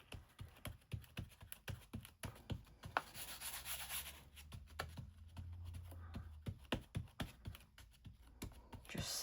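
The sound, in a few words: rubbing a turned-over journal page to make good contact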